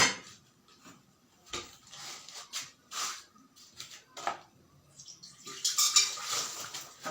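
A lid is set on a cooking pan with light metallic clinks and scrapes, a few scattered taps and clatters, faint and close in a quiet kitchen.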